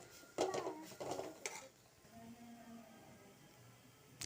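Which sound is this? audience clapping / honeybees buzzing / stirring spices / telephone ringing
stirring spices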